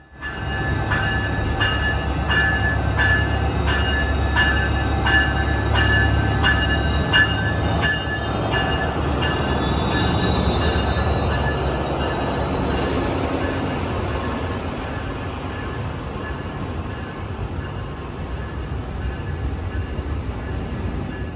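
A Brightline passenger train hauled by a Siemens SCB-40 Charger locomotive pulls away from a station with a loud, steady rumble and engine drone, and a sustained tonal whine rises before the sound eases slightly as the train moves off.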